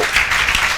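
Students clapping for a classmate in a classroom during a trigonometry lecture, a brief, steady burst of dense hand claps at close range.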